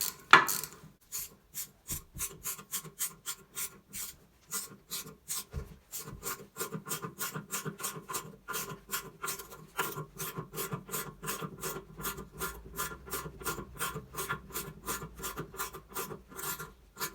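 Screws are driven into wall plugs to mount a toilet on tiled flooring, giving a steady run of rapid ratcheting clicks that is quiet and close, with no voices.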